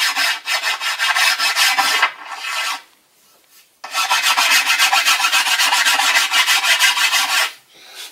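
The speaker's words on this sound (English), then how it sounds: "I'll come along with some 50 grit sandpaper before I put too much pressure on it on the tiller stick" Coarse 50 grit sandpaper rasps along a wooden board bow in long, steady back-and-forth strokes, close and loud, with a short pause in the middle before the scratchy rubbing resumes.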